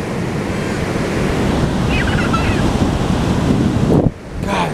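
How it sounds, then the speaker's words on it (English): Ocean surf at a beach, a loud, continuous wash of breaking waves heard up close with heavy wind buffeting the microphone, a faint voice briefly underneath. "God, it's so beautiful. I love the beach so much."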